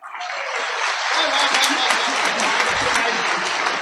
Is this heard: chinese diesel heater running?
no